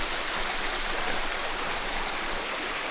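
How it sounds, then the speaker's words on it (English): Savage Creek rushes beneath a suspension bridge on a Tennessee gulf trail, a steady, loud, broadband wash of flowing water filling the whole stretch with no voices. "Another suspension bridge. This time over a lot more water. Seems to be like the main Savage Creek right here."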